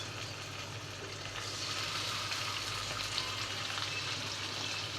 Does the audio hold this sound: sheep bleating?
no